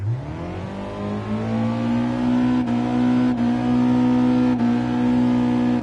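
A car engine in the racing game GT Sport climbs steadily in pitch as it revs toward about 8,500 rpm, a loud sustained whine with brief dips where gears change.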